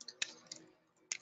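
Faint, sparse keystrokes on a computer keyboard while a terminal command is typed, three or four soft clicks spaced irregularly in a quiet room.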